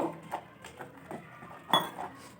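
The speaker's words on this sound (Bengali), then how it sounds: "এরপর এটাকে আমি খুব ভালোভাবে আগে মিশিয়ে নিচ্ছি।" A spoon scrapes and clinks against a bowl while dry chilli bajji batter ingredients are stirred together, producing soft irregular knocks and one sharper clink, close up.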